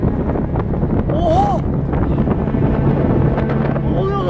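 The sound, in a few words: strong wind blowing through trees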